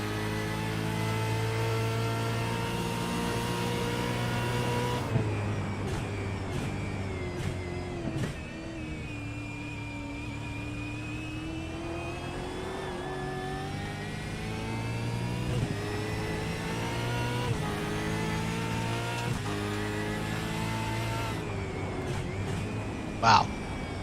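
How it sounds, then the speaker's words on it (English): A race car circles the track alone during warm-up laps in the ARS Pushrods & Popcorn Series at Summit, its engine droning steadily and rising and falling in pitch, with voices talking over it. "He's the only one out on the track doing warm-up right now."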